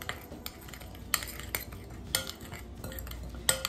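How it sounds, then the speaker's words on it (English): Gluten-free potato flour biscuit dry ingredients being mixed in a bowl: a utensil clinks and scrapes against the bowl in irregular light taps over a soft, steady background, with no voices. "I'm gonna give everything a good mix just to give it a head start"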